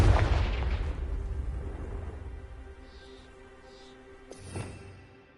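A Confringo spell explosion in Hogwarts Legacy, one deep booming blast at the start that rumbles and slowly fades, followed by a few faint whooshes and a smaller thump near the end.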